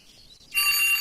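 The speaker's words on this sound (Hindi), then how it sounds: "प्लीज अलार्म की रिंग बंद करो" A loud, shrill alarm clock bell bursts into continuous ringing on a cold early morning in a home, starting after a moment of near silence and holding steady at full volume.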